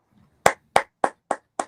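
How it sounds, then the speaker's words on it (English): One man claps his hands five times in a slow, even rhythm, each clap sharp and close, with near silence between them. "Let me clap for you."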